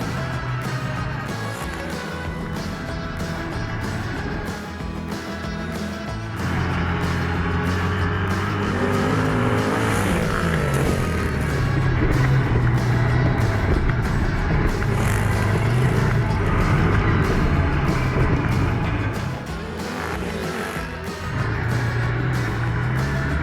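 A Royal Enfield INT650 Interceptor motorcycle is ridden hard around a motocross track, its engine droning steadily and rising in revs, loud and close, with varying throttle and no talking.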